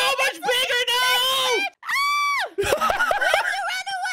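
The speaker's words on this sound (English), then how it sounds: "They screamed so super loud!" Several players shriek loudly and shrilly together at a jump scare in a Sonic-themed video game, in long, piercing screams with a short break between them.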